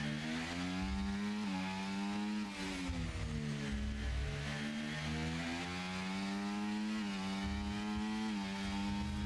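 A race car engine in a racing video game, held at full throttle and screaming steadily, its pitch dipping and climbing through gear changes, loud and close with no voice over it.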